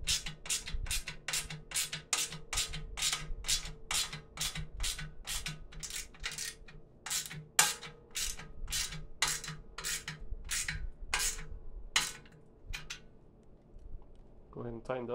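A ratchet wrench tightens bolts from the nut side while a 2022 Harbor Freight 3-1/2 cubic ft cement mixer is assembled. The loud clicks come close and quick in a steady run, with short pauses between bursts.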